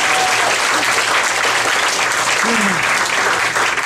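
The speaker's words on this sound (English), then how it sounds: "Give yourselves a round of applause for coming out." Comedy club audience at a stand-up show applauds steadily and loudly for about four seconds, a dense wash of clapping with a brief whistle or vocal blip partway through.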